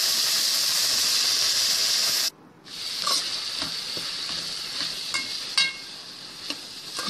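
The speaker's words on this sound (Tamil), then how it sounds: "இந்த ஸ்டேஜில் நம்ம கட் பண்ணி வச்சுருக்க பச்சை கலர் கத்திரிக்காயை அதில் போடுறோம்." Cut green eggplant frying in hot oil while being stirred; a loud, dense sizzle drops out briefly, then returns with scraping stirs and occasional sharp spatters.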